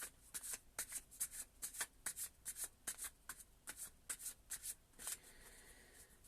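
A deck of tarot cards is shuffled close by in quick, repeated riffles, a run of crisp fluttering bursts for about five seconds, then a softer rustle, with no talking.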